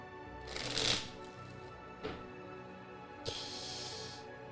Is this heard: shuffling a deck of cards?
yes